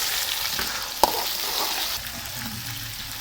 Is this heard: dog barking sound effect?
no